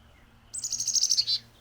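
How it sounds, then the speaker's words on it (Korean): A short, high-pitched black-capped chickadee song of rapid repeated notes, about a second long, clear and fairly close against a quiet background. "치카디라는 이름은 지저귀는 소리가 치카디디디처럼 들리기 때문입니다."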